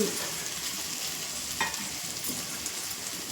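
Deep-fried chicken pieces for chicken fried rice sizzle in a pan with a dense, steady hiss and a couple of faint utensil scrapes.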